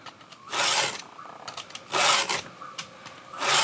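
Chainsaw chain being sharpened with STIHL double-cut files, heard as close, rhythmic rasping strokes, each a short gritty scrape lasting about half a second, repeating steadily with brief pauses between.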